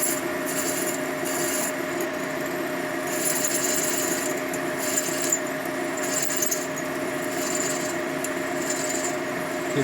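Steady grinding of a drill bit biting into a broken Harley-Davidson exhaust stud, a continuous rasping whine with slight rhythmic pulses and no pauses.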